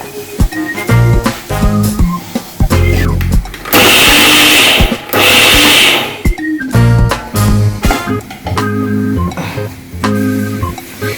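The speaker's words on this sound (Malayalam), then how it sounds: "നമ്മൾ എടുത്തു വെച്ചിരിക്കുന്ന തേങ്ങയും ഉള്ളിയും മുളക് പൊടിയും എല്ലാം കൂടെ ഒന്ന് അവിയലിന്റെ പരുവത്തിൽ ഒറ്റ ഒരു അരപ്പരച്ച്" A mixer grinder churns coconut, onion and chili powder into a paste, its loud motor whirring in repeated bursts with a long sustained grind in the middle, close and dominant.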